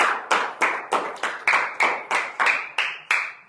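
A church congregation claps in praise, about a dozen sharp, evenly spaced handclaps in a steady rhythm, loud and close with no talking over them.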